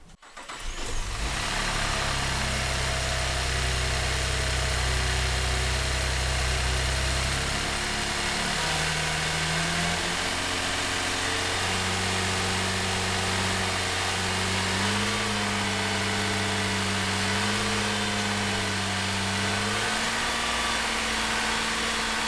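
A 2008 Cadillac CTS with a GM 3.6L GDI engine starts, cranking briefly before catching, then settles into a steady, loud idle with a fairly even hum and a couple of small shifts in pitch, with no voices.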